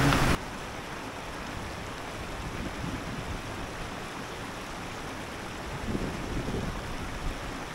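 A stream on a road trip near Netarhat, Jharkhand, gives a steady broadband rush of flowing water that is moderately loud and unbroken, with a brief louder burst at the start and no talk.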